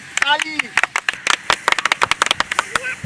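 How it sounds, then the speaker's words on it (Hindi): Sharp, irregular hand claps ring out in quick succession, loud and close, mixed with excited shouting voices during a comic wrestling bout. "ताली।"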